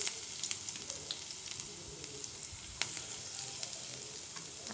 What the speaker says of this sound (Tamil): அது நல்லா பொரியட்டும்.